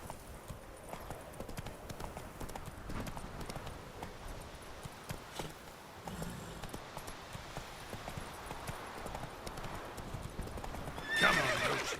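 Horse hooves clip-clop steadily through a Witcher 3 video game scene, with a neigh near the end, all fairly loud and continuous.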